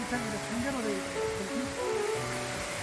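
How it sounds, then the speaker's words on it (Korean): Cheongcheon Waterfall, a two-tiered falls about 700 m up on Jaeyaksan mountain, roars as a constant broadband rush close by, with people talking over it. "여기 폭포 이름은 뭔가요? 청천폭포라고 합니다."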